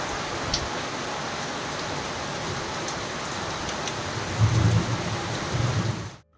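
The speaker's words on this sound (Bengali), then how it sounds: "বাইরে ভীষণ জোরে ঝড় উঠেছে।" Steady heavy rain pours outside during a thunderstorm with a dense, continuous hiss, and low rumbling swells near the end before the sound cuts off abruptly.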